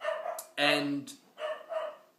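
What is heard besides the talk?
dogs barking at someone outside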